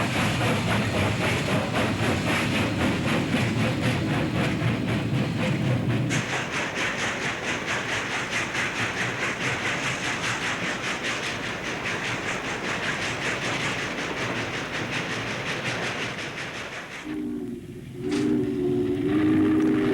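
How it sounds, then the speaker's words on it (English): Westbound steam freight train passing Tower A at Cheyenne, a sustained rumble with rapid clickety-clack of wheels over rail joints, loud and close, changing pitch midway, with a brief horn-like tone near the end. "a scene of a westbound freight passing between the C&S Bridge by Tower A at Cheyenne"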